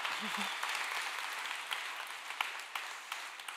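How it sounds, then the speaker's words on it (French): An audience at a gastronomy day talk applauds a speaker, a moderately loud, even wash of many hands clapping with a few sharper claps standing out, and a brief low voice at the start. "On l'applaudit encore."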